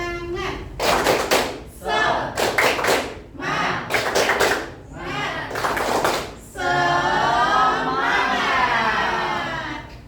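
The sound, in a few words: class doing 'tepuk semangat' rhythmic clapping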